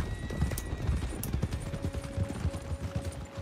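Horse hooves clop in a steady, dense rhythm in the Red Dead Online video game, close and continuous, mixed with faint game ambience and scattered distant gunfire-like pops.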